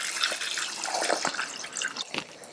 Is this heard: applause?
no